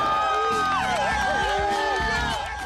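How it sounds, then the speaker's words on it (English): A roadside crowd at a Joshua Tree foot race cheers runners on, loud and continuous, with music and voices layered over the noise. "Then both head off with the enthusiastic support of the Joshua Tree crowd."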